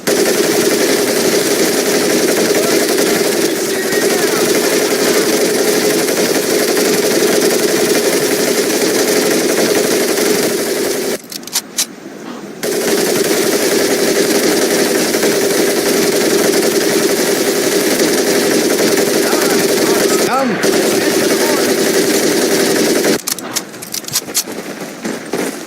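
Steady, loud automatic fire from an M1919A4 .30 caliber machine gun in the Medal of Honor Pacific Assault video game, sustained over dense battle noise with brief pauses between long bursts.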